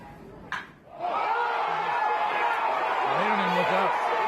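Stadium crowd roaring after a home run at a baseball game, a sustained loud wash of cheering that swells in after a brief burst and holds steady, with voices talking over it.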